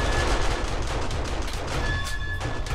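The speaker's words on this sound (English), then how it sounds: "Weren't you shooting? I'm taking single shots." Dense, continuous gunfire in the zombie survival game 7 Days to Die during a massive horde night, a loud, unbroken barrage of rapid shots with deep rumbling underneath.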